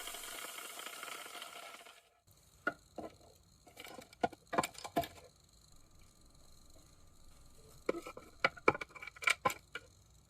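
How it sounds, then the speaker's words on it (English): A magnetic needle tumbler of small stainless steel needles polishes a ring, producing a scattered run of sharp metallic clicks and rattles in irregular bursts over a faint steady hum, with no talking. "Now we put the piece into this needle tumbler, which is basically a bunch of little stainless steel needles that are driven by a magnet."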